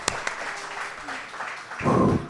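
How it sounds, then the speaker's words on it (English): Live audience at a pie contest grand finale applauding a participant, diffuse clapping at moderate level with a couple of sharp nearby claps, then a louder burst of cheering near the end. "a big round of applause for our fourth participant of Project Pi, Alyssa Nourie"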